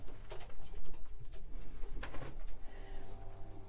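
Racing pigeons coo inside a loft, soft low repeated calls over a steady murmur of background noise, with occasional light rustling and pattering.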